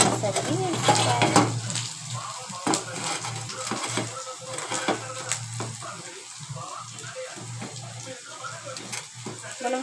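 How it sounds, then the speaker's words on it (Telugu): Onions tipped into hot oil in a pan: a steady sizzle and crackle runs throughout, with frequent clinks and scrapes of a utensil against the pan and a low hum underneath, and someone talking at times. "ఆయిల్ అయితే మరిగిపోయింది. ఇప్పుడు ఆనియన్స్ అన్నీ వేసుకోవాలి."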